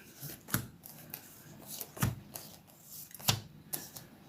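Tarot cards are shuffled and drawn in a quiet room, with several sharp, close flicks and slaps of cards at uneven intervals and no talking.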